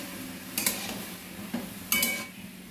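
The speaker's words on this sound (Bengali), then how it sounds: "এবার একটু নাড়াচাড়া করি" Onions for onion posto stirred in a pan with a little water: a few scattered scraping strokes and light metallic clinks over a soft, quiet background, without speech.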